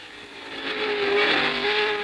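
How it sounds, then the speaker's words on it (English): Formula One race cars at the 1962 French Grand Prix, a loud high-pitched engine wail that swells as they pass close by, with no talk over it. "the battle for the lead between Graham Hill and John Surtees"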